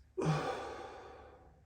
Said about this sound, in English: the last part will be an exhale, bringing the elbow down towards the hips